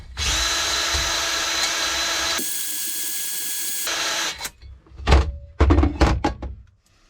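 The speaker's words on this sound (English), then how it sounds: "it allows you to finely hone and polish that bush so that the shaft goes straight through" A drill-driven hone polishing a bush in a Lambretta Super Tourer engine, a steady high whirring grind that shifts pitch partway through, then stops and gives way to a few loud knocks and handling clunks.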